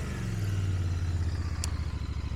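A 2025 Royal Enfield Bear 650 motorcycle rumbles along with a steady, deep parallel-twin drone, pulsing close and loud as it's ridden, the beat quickening slightly toward the end.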